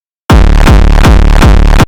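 Hardcore kick drum synthesized in Serum and driven hard through a diode distortion, five loud saturated booming hits in an even rapid rhythm, each with a punchy attack and distorted tail.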